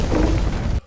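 A burning explosive goes off in a film scene with a loud, dense boom. The blast holds for under a second and then cuts off abruptly.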